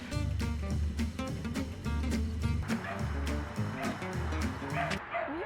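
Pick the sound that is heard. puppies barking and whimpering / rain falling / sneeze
puppies barking and whimpering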